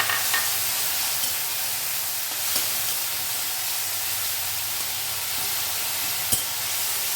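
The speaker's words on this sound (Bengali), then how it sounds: "এবারে এটাকে ভালো করে একটু কষিয়ে নেব।" Ginger paste sautéing in a pan for a vegetarian bottle-gourd lentil-fritter curry, a continuous close sizzle and hiss with a couple of sharp utensil knocks, no voices.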